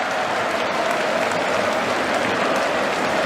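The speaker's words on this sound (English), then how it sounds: "The whole crowd on their feet. He waves to them, they cheer back." Cricket crowd at Headingley on their feet, cheering and applauding Ben Stokes; dense, steady clapping and cheering fills the whole stretch at high level without pause.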